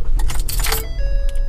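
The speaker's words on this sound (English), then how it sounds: "So let's start the car." Keys jangle loudly in a Ford Police Interceptor's ignition, followed by steady tonal hums and chimes from the car's dash as it comes on, over a low constant rumble.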